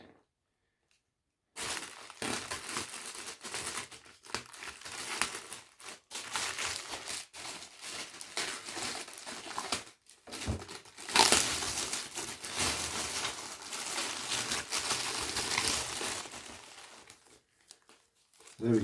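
Plastic and cardboard packaging crinkles and tears as a home cinema speaker is unwrapped, close and loud in uneven bursts with short pauses, while a person talks intermittently.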